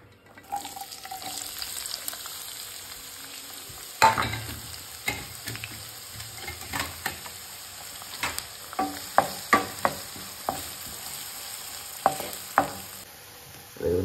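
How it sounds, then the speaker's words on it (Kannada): Chopped onions hit hot oil in a pan, giving a steady low sizzle with occasional stirring knocks and clatters throughout, close and moderately loud, with no voices. "ಕಾಯ್ದ ಎಣ್ಣೆಗೆ ನಮ್ಮ ಕಟ್ ಮಲ್ದಿತ್ತಿನ ನೀರುಳ್ಳಿ ಪಾಡ್ಗ"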